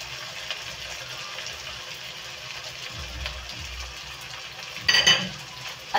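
Spicy shrimp in a sauce of oyster sauce and ketchup simmers and sizzles softly in a pan while being stirred, with low scraping and a brief clatter near the end.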